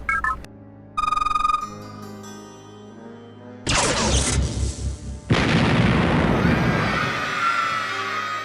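Explosions in the video game Command & Conquer, where a space laser destroys a landmark: electronic beeping tones lead into a deep booming blast, followed by a second louder rumbling explosion that decays slowly.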